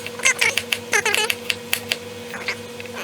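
A kitchen knife slices vegetables into thin julienne strips for a somen noodle salad, giving quick, irregular crisp taps against a cutting board, close and fairly loud, with no talking.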